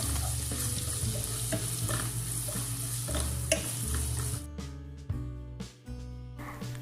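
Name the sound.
sautéing ginger garlic paste in butter and sunflower oil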